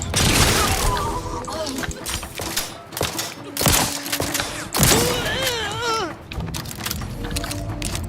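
In The Outer Worlds 2, gunfire aimed at an enemy sniper crackles in dense, rapid bursts and mixes with mechanical game sounds, while a person talks over the action.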